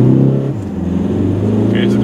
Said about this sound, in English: So let's drive at 60 kilometers per hour.